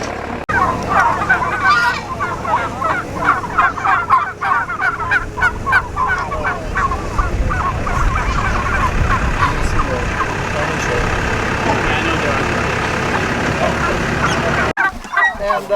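Turkeys on a pasture farm gobble and call repeatedly in a loud, busy chorus of rapid bursts, with people talking nearby and a low rumbling background beneath.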